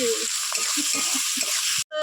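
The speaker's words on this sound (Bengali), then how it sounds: "পেঁয়াজ ভাজা" Onions fry in a pan with a bright, constant sizzle and a few soft stirring sounds. The sizzle cuts out abruptly near the end.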